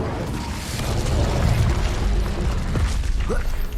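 Incendio fire spell cast in Hogwarts Legacy, a loud, sustained rumbling whoosh of magical flame with a low booming body that swells and then eases over a few seconds.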